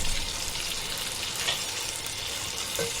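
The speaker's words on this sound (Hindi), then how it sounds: "टमाटर को भी अच्छे से भूनेंगे, एकदम टमाटर को अच्छा गलाएंगे" Tomatoes frying with minced mutton keema on a tawa, a dense close sizzle holding steady throughout the short stretch, with a faint scrape partway through.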